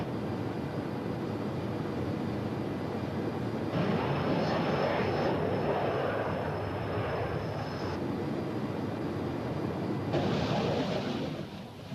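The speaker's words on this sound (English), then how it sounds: "He is trying to come to grips with an airborne VC-10 tanker to refuel." A McDonnell Douglas Phantom jet flies in close formation with an airborne VC-10 tanker during in-flight refuelling. A steady, loud, broadband jet-engine roar continues throughout, and it swells noticeably in the middle and again near the end.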